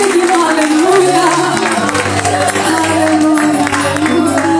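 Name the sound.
congregation applauding in church worship service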